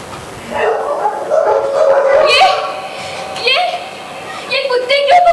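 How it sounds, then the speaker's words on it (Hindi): Dogs barking and yelping loudly and close, in several uneven bursts with whimpering and howl-like cries, mixed with a voice. "ये कुत्ते क्यों भौंक रहे हैं?"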